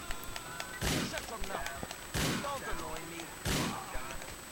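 Gunshots in Grand Theft Auto: Liberty City, with three loud, sharp bursts spaced about a second and a half apart, each with a short rumbling tail, over quieter game background noise.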